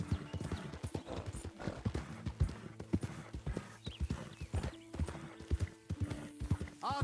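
Horse hooves clip-clop in a steady, uneven rhythm throughout, with a whinny and brief talk in the background, from the video game Red Dead Redemption 2.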